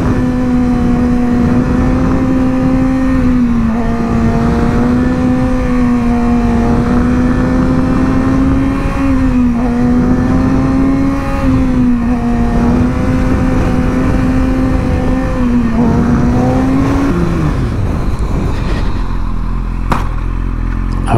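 A motorcycle engine drones steadily on a ride to a gas station, loud and close, its pitch rising and dipping with gear changes before easing down near the end.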